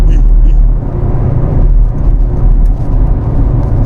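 An Audi RS7 sedan at full throttle gives a loud, deep engine rumble from inside the car, steady and heavy with a brief dip and recovery, no speech heard.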